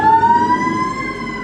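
A fire truck siren wails loud and close, one steady tone holding through the clip with no talk over it, as several fire trucks and ladder trucks head to a big fire.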